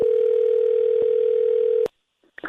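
Telephone tone while a call is being placed: one long steady ring lasting almost two seconds, loud and close, then it cuts off to silence before a faint click and rustle on the line.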